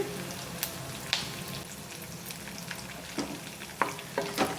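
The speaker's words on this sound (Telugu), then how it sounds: "ఇవి గోల్డెన్ కలర్ వచ్చేదాకా ఫ్రై చేసుకోవాలి. దీనిలోకి 2 రెబ్బల కరివేపాకు వేసుకోవాలి." Chicken sherva base frying in a pan as curry leaves go in, giving a continuous close crackling sizzle with scattered sharp pops and a few stirring clinks.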